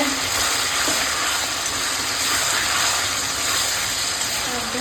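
Chicken sautéing in oil with salt gives a steady, even frying hiss and sizzle throughout, close and continuous, with a few faint stirring knocks and no speech.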